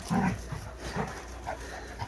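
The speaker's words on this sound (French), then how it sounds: "Bon là il y a les chiens qui font des tares à côté, du coup elles se méfient." Dogs nearby on a farm, making short yips and soft whimpering barks in a few quick bursts, fairly close and loud, with no talking.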